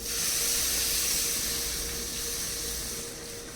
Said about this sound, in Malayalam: നമുക്കിനി ആവശ്യത്തിന് വെള്ളം ഒഴിച്ചു കൊടുക്കാം.